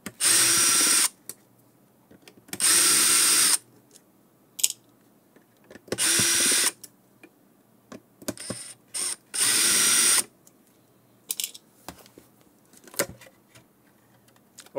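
A power drill removes screws from an ACTER 48V AC golf cart motor controller in four loud, close, whirring bursts separated by quiet gaps filled with small clicks and metallic rattles.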